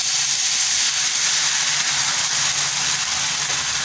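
Rice flour ghavan batter poured onto a hot oiled pan, giving a loud, steady, close sizzling hiss that holds unchanged throughout with no talking.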